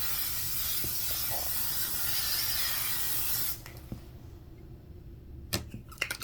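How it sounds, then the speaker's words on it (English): Makeup setting spray misted over a face in a steady, soft hiss that runs for several seconds and then stops. A few faint clicks and taps follow in the quiet afterward. "you just spray it all over."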